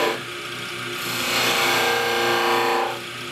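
Chisel shaving wood on a lathe while turning a stretcher, a continuous rough scraping hiss that swells louder in the middle, over the steady hum of the spinning machine.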